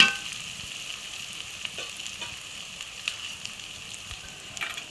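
Onion frying lightly in a pan gives a soft, steady sizzle with scattered small crackles, quiet and close, with no talk over it.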